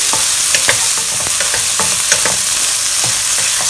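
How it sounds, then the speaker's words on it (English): Yam pieces sizzle and fry steadily in a pan over medium-low heat while a utensil scrapes and stirs them in irregular strokes, close up. "Stir them, don't burn them."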